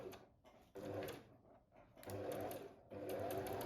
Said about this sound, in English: you can then sew these into place to make them secure.